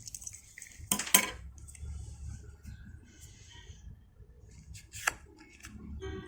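Scissors cut to a measured length while a charging cable is being repaired: two sharp, close snips early on and another a few seconds later, over a quiet background.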